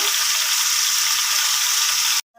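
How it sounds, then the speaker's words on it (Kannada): Garlic sizzles hard and close in hot oil in a pan for Andhra-style tomato pickle, a dense, steady frying hiss that cuts out abruptly just before the end. "ಬೆಳ್ಳುಳ್ಳಿ ಹಾಕಿದ್ದೀನಿ"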